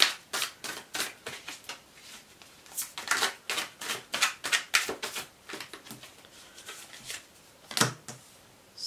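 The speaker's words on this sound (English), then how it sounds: "let me just take a few more cards before we start here" Tarot cards shuffled and drawn by hand, a quick run of crisp, dry snapping clicks and riffles at close range, alone with no talking.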